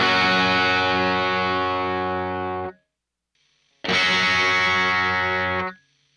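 An electric guitar plays through a real guitar amplifier with a distorted tone, striking two long sustained chords. Each chord rings loud for about two seconds and then cuts off, with a short silent gap between them.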